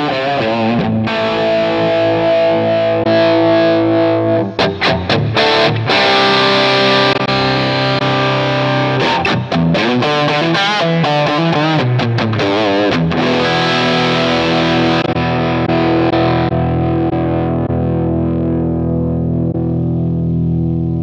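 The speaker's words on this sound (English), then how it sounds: "we have a cab on the Helix now" An electric guitar plays through a Line 6 Helix amp model with a cab block, giving a distorted, effects-laden tone of strummed chords and single notes that ring out continuously.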